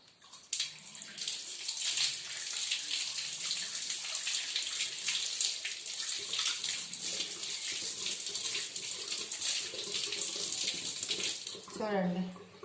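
Tap water runs steadily and loudly as an object is scrubbed clean under the stream, with a voice briefly speaking near the end.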